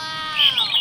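A battery-powered toy bird in a cage gives a short burst of bright electronic chirping, a close, loud run of rising and falling tweets with no talk.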